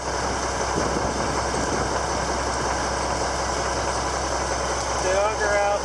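A farm tractor's engine idles steadily at corn and soybean planting, a constant low mechanical rumble heard up close throughout, with a voice briefly audible over it near the end.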